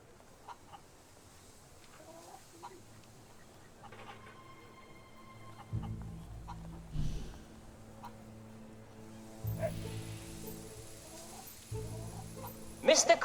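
Chickens cluck in the Fable 3 video game's chicken race, short clucks and squawks scattered across the scene, soft to moderate with a swell toward the end, mixed with background game sound and some voice.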